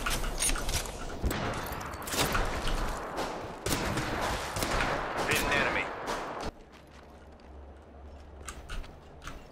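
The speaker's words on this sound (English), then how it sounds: "Bad boys are shooting at me." Dense video-game gunfire rattles in rapid bursts for several seconds, loud and close, then cuts off abruptly and gives way to quieter ambient sound with a voice talking under the action.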